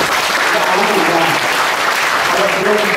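A short burst of loud audience applause, dense and continuous clapping from a crowd.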